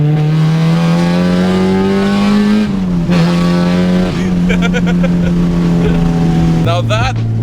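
Loud, droning K-swapped Honda Civic engine note from inside the car, holding a high steady pitch, briefly dipping between gears and rising again, with talk over it.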